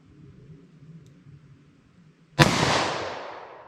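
A single loud, sharp .38 Special shot with Federal Punch ammunition from a short-barreled handgun cracks out after a few seconds of quiet, followed by a long, fading echo outdoors.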